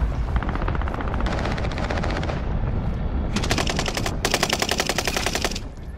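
Sustained automatic gunfire in a video game firefight, dense rapid bursts layered on top of each other, loud and close, with heavier runs of shots toward the end and no talk.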